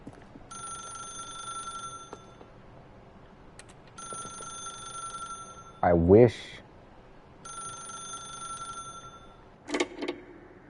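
A telephone rings in The Stanley Parable, three separate bursts of bright electronic trilling spaced a few seconds apart, with a short spoken phrase and a couple of louder thumps between rings.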